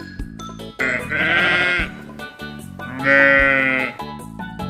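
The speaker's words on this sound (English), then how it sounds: "Sheep." A sheep bleats twice in clear, loud, wavering calls, a toy animal sound effect heard alone over a steady tonal backing.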